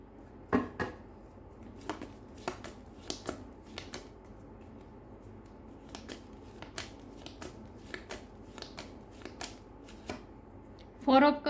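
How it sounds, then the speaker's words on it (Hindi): Tarot cards shuffled and handled near the microphone, giving scattered soft flicks and snaps over about eleven seconds, ending in a brief louder riffle. "आई होप आपको कार्ड दिख रहे हैं अच्छे से।"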